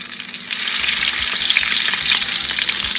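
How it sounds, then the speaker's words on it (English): Patties frying in a big, large pan give a loud, steady sizzle and crackle close up, with a few low knocks of the pan part way through. "And I fry it up in this big large pan"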